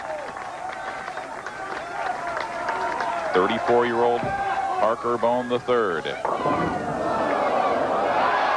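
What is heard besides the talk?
bowling crowd cheering a strike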